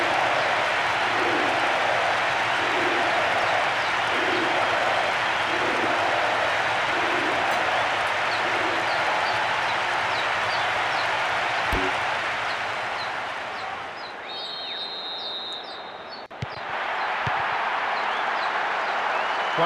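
A capacity stadium crowd roars and applauds throughout a football match in PES 2012 on PlayStation 2, a dense, loud, continuous wash of noise with rhythmic chanting swells early on, dipping briefly before surging again.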